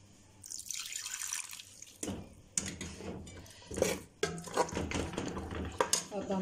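Water poured into a cooking pan holding peas and potatoes, a splashing, trickling pour with clinks of utensils against the pan nearby, fairly close and moderately loud.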